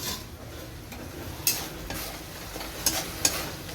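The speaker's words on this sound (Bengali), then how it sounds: "আমি আমার জন্য একটু ডিমের কারি করছি" Egg curry spices fry in a pan while a spoon stirs them. A soft, steady sizzle runs underneath, with a few sharp scrapes against the pan.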